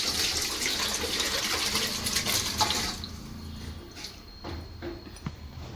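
Liquid chicken biryani mixture pours steadily from a pressure cooker into a pot and splashes for about three seconds, then a quieter background with a few clinks and drips.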